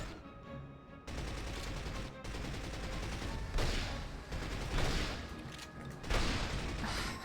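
Gunfire in the 007: From Russia With Love video game, rapid repeated shots in sustained bursts with short gaps, loud and close, sometimes clustering into heavier blasts.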